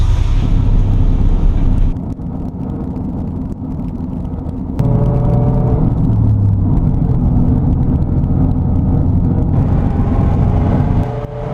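A 1960 Ford Fairlane 500 lowrider engine hums steadily at about 50 mph, a low continuous drone with road rumble and a slight shift in tone partway through.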